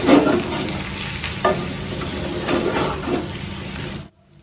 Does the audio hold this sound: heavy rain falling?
no